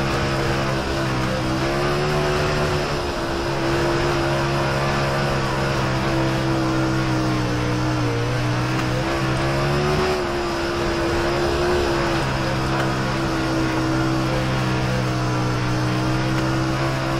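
A Super Late Model race car in the racing simulator iRacing held at full throttle, its engine a loud, continuous drone with the pitch rising and falling slightly as it runs through the laps, with no talk.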